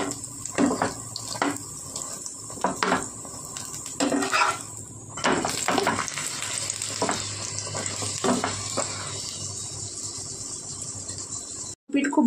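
Aloo paratha frying in a pan, with a close, steady sizzle broken by scraping and flipping sounds, plus a brief dropout near the end.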